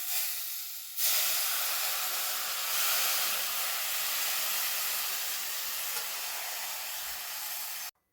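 Dissolved tamarind water poured into a pot of hot simmering kuzhambu sets off a loud, steady sizzling hiss that starts abruptly, holds for several seconds and then cuts off sharply.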